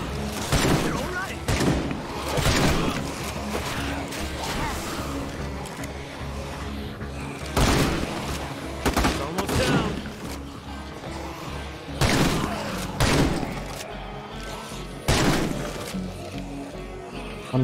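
A shotgun fires in a video game with sharp, loud blasts at irregular intervals, several shots in a row, while a person talks over and between them.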